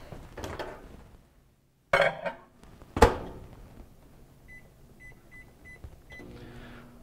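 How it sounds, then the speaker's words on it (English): Dishes of purple potatoes clatter sharply twice as they go into a microwave, which beeps four times in quick succession and starts humming. "let's just put these in the microwave here."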